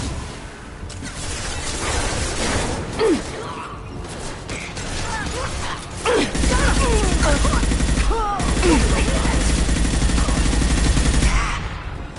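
Mass Effect 2 gunfire crackles in rapid bursts among mechanical clanks and a heavy rumble, with voices calling out over the shooting.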